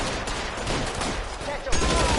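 A rapid volley of gunshots in the video game L.A. Noire, loud crackling fire packed into about two seconds, with a few sharper distinct shots at the end.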